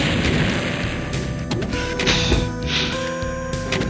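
In the game Doom, a barrel is shot and explodes amid gunfire, producing loud booming blasts and crashing impacts over a dense, noisy mechanical game soundscape.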